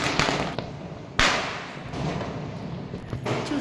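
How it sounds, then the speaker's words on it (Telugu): Diwali firecrackers bursting outdoors around a home at night: a handful of sharp cracks at irregular intervals, one louder, nearer bang standing out, all over a steady wash of distant background noise with no talking. "బాంబులు మోగిపోతాయి."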